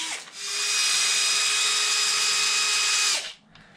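A power drill runs in one continuous whine for about three seconds, backing screws out of a Traxxas XRT RC truck, close and loud, then stops.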